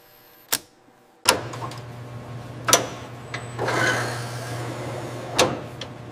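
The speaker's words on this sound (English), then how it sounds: "Next, press fitting." Press fitting a part during assembly of a NASA Valkyrie R5 humanoid robot: a few sharp clicks and knocks, then a steady low mechanical hum with a brief rising whir, close and fairly loud.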